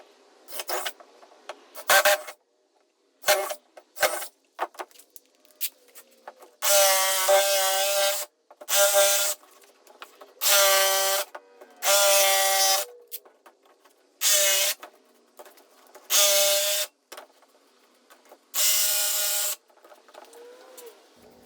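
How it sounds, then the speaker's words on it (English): A drill with a wood bit bores corner holes, and a jigsaw then cuts openings in a garage wall panel. The sound comes as a series of short, loud, buzzing bursts of work separated by silences. "I'll drill 4 holes in each of the corners, and then use my jigsaw to cut in the boxes"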